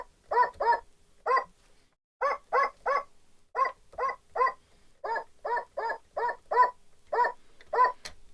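An AXUS USB toy keyboard plays its dog voice: about sixteen short, identical electronic barks, some in quick pairs, repeated at a steady pace and fairly clear with no talk over them.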